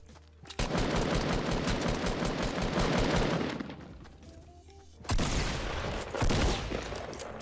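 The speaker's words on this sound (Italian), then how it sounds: "Gente che spara." Rapid automatic gunfire in the video game Fortnite, a sustained dense burst lasting about three seconds, a short lull, then another loud volley, fairly close with no talk over it.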